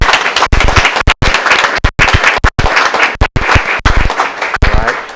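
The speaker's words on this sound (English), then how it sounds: "If we can give her a round of applause." A school board meeting crowd claps for a new girls basketball coach, loud sharp handclaps in bursts broken by brief silent gaps, close to the microphone.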